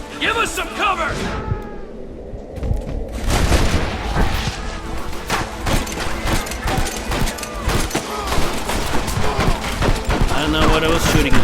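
Gunfire in the video game Red Dead Redemption, a loud volley of repeated shots and booms with horse hooves mixed in, alongside game music and someone talking over it.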